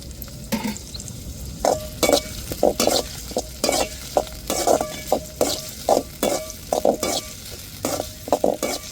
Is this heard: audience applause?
no